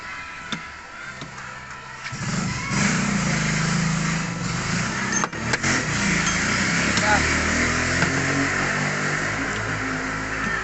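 A street vendor's mixer machine running while it acts up, its motor starting as a low steady drone and holding continuously close by, with a few clunks and brief bumps in the noise.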